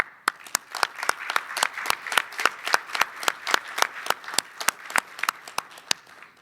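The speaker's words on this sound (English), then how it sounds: "So I'd like to give a round of applause for that entire committee and the work that they did." Light applause at a committee meeting, with individual claps from a small group ringing out in a clear uneven rhythm, close and distinct, with no voices over them.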